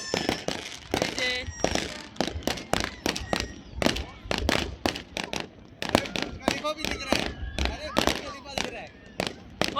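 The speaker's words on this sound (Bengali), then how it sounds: "চারিদিকে ফাটছে, চারিদিকে।" Fireworks and firecrackers burst all around at a New Year 2025 celebration, with dense, rapid cracks and pops from near and far overlapping continuously while people talk underneath.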